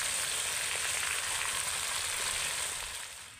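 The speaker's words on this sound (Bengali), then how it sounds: "সবগুলো মাছ আমি ভেজে নিয়েছি" Loti fish frying in mustard oil, a dense, even sizzle close by that holds steady and then eases slightly toward the end, with no talking.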